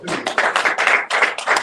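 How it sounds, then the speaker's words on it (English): A press conference audience at the Jackson Music Awards claps in choppy bursts with short gaps between them, fairly close and loud, while someone briefly speaks. "Give them a round of applause."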